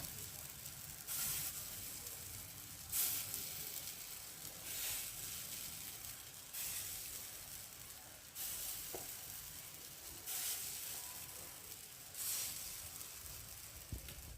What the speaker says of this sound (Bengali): প্রথমে অল্প তেল দিলাম, একটু যেই এক পিঠ ভাজা হয়ে যাবে উল্টে নিয়ে আর একটু তেল দেবো